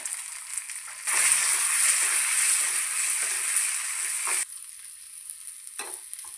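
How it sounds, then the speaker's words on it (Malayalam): Chopped shallots and dried red chillies hit hot oil with urad dal for an Onam kootu curry, bursting into a loud, steady sizzle that fries for a few seconds before dropping away. "നമുക്ക് ഇതിനകത്തേക്ക് ചെറിയ ഉള്ളി അരിഞ്ഞത് ഇട്ട് കൊടുക്കാം വറ്റൽമുളക് ഇട്ട് കൊടുക്കാം"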